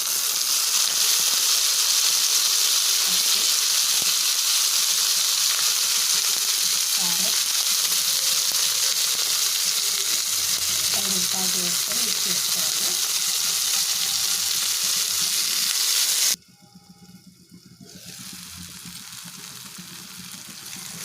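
Onions and curry leaves fry in hot oil for a raw banana kurma, a loud continuous sizzle with occasional stirring that runs steadily, then drops abruptly to a quieter hiss near the end.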